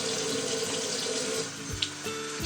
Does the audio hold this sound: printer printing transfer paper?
no